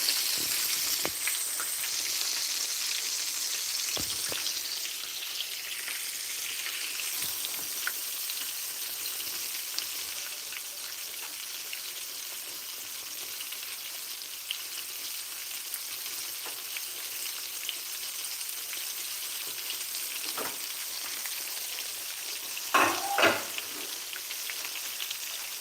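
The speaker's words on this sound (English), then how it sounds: "And we are just frying." Steady crackling sizzle of hake fillets frying in a pan, continuous and close, with a few brief louder pops near the end.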